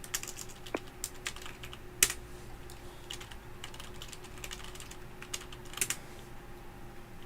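Rapid, steady typing on a computer keyboard while entering flight data into a calculator for an Airbus A320neo, with light, close key clicks and a few sharper, louder keystrokes and no talking.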